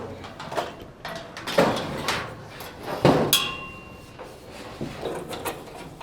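A solar panel being clamped onto its angled mount during installation, heard as a series of sharp metallic knocks and clanks with a brief ringing tone and some scraping between hits.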